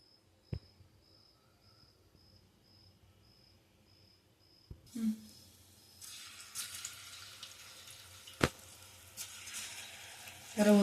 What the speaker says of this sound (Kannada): ಈಗ ಎಣ್ಣೆಯಲ್ಲಿ ಫ್ರೈ ಮಾಡ್ಕೊಳ್ಳೋಣ